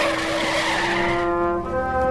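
A truck skids to a stop in a motion comic effect, a loud sustained tonal tire squeal with layered harmonics that narrows and holds to the end, heard alone.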